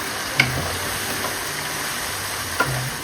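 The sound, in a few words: salted hilsa fish sizzling while sautéed with spices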